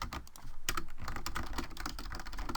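Rapid, steady keystrokes on a computer keyboard while JavaScript code for an HTML5 game is typed; the clicks are close and continuous, with a brief lull near the start and no talk.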